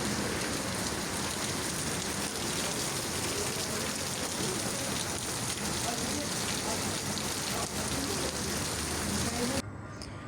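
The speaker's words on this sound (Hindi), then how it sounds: "होटल की विंडो पे बैठ के पूल में बारिश होते हुए देखने का भी अपना अलग ही मज़ा था." Rain falling on a hotel pool in Kuala Lumpur, a dense, steady hiss of drops that stays even throughout and cuts off abruptly near the end.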